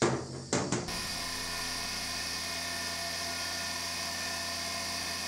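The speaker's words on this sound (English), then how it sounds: "Now let's do, for the fun of it, the good old Cheyenne. 6 volts." A Cheyenne tattoo pen machine running at 6 volts gives a steady, close electric whir with a constant high buzz, starting after a couple of short stuttering bursts and holding evenly with no talking.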